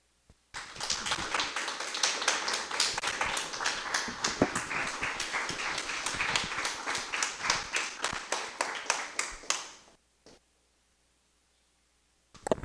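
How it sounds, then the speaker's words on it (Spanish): Audience applause for a speaker after a lecture on the Politécnicos and their community legacy, a rapid, even run of clapping about nine seconds long that stops with a few final claps, followed by near silence. "Yo creo que otro fuerte aplauso para el maestro."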